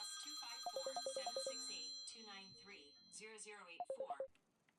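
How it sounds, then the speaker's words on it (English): Electronic phone ringtone heard while playing Grounded 2, a close two-tone ringing burst at the start, a pause with a voice talking, then a second ringing burst near the end. "I had a phone call"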